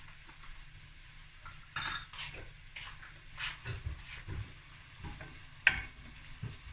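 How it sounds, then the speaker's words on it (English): Garlic and crushed chili fry softly in a pan, a low hiss beneath scattered scrapes and clinks of a utensil stirring, with one sharper metallic tap near the end; no one speaks. "I'm just going to let this fry for a few minutes."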